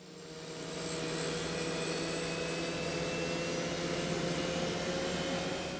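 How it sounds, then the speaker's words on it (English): Airliner cabin engine noise in flight, a steady loud droning roar with constant tonal hums that swells in over the first second and then holds evenly, no talk. "The plane sounds like a monster."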